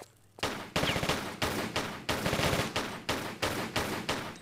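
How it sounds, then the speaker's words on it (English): Enemy gunfire in Tomb Raider: The Last Revelation, Cairo citadel level: a rapid run of loud, close gunshots in quick bursts, roughly ten sharp reports after a brief quiet start, with no talk. "he's shooting at me"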